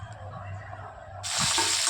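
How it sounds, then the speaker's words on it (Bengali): Cut potatoes and pointed gourd drop into hot oil in a pan, a quiet room tone giving way abruptly to a loud, close, steady sizzle partway through. "এবার পটল আলুগুলো একটু লাল লাল করে ভেজে নেব।"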